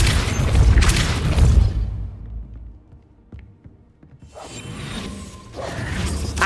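A gate mechanism raising in Hogwarts Legacy: a heavy rumbling, grinding mechanical movement that fades into a quiet pause with faint clicks and then rises again, with no talking.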